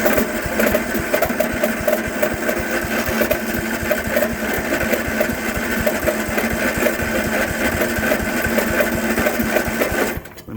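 An engine that has just been fired up runs at a steady, fast chugging idle, loud and close, for about ten seconds before it cuts out abruptly.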